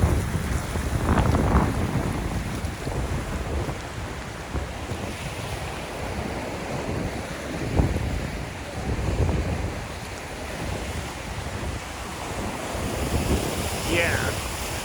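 Sea waves washing onto the shore in Jeju, a steady broadband surf wash with gusts of wind buffeting the microphone throughout, fairly loud and continuous.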